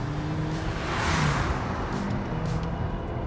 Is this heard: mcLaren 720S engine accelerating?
yes